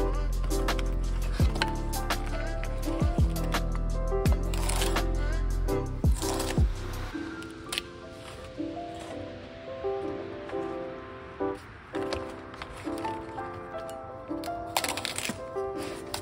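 Collard green stems are cut and snapped off by hand, giving several crisp cracks and snaps over steady background music.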